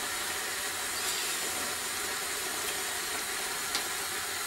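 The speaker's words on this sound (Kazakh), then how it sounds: "саңырауқұлағымызды бастаймыз қуыруға" Mushrooms frying in a pan for beef stroganoff give off a steady, even hiss of sizzling, fairly quiet and continuous with faint crackles and no talk.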